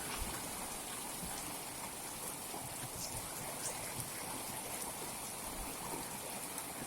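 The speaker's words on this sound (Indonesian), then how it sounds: "Hujan barusan, hujan es guys." Heavy hail pelting down at Jagong Jeget in Central Aceh, a dense, steady roar of countless small impacts with sharper clicks scattered throughout, continuous and fairly close, with no voices.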